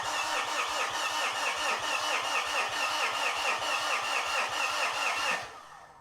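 A Fuso FG truck engine cranks steadily on its starter with a fast, even rhythmic churning, close and loud, then the sound cuts off sharply near the end.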